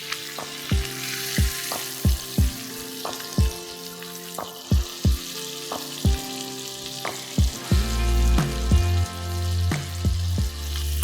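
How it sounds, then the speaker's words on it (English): A herb-crusted pork loin roast sears and sizzles steadily in a hot pan, punctuated by repeated sharp clacks as it is turned and propped to brown on every side, with the frying growing louder and fuller toward the end. "It's just making sure that it does get browned on all sides."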